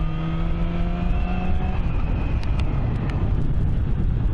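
A Yamaha R6 motorcycle with a modified stock exhaust rumbles continuously with a deep, steady engine note, heavy wind buffeting mixed in and no talking.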